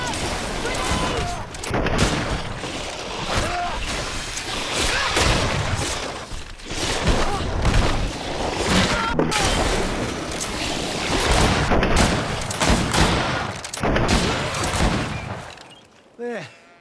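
Grenade explosions and rapid gunfire crackle through a GreedFall battle, dense and continuous bursts with sharp blasts standing out, while voices talk over the combat.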